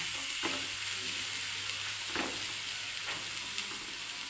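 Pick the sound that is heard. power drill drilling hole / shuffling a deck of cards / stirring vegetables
stirring vegetables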